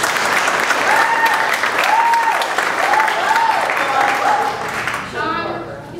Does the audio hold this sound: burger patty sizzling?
no